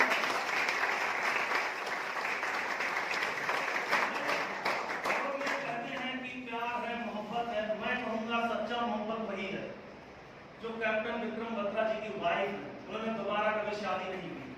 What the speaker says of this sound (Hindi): एक बार उनकी पत्नी के लिए भी जोरदार ताली।